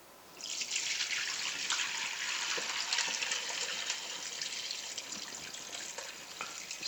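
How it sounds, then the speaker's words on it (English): Hot homemade chicken stock from an electric pressure cooker poured into a strainer, a steady close splashing rush of liquid that starts abruptly and continues for several seconds, easing slightly toward the end. "I'll try to carefully pour this into the strainer"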